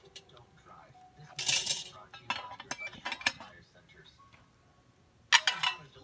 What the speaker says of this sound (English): Set the 12-inch Dutch oven there.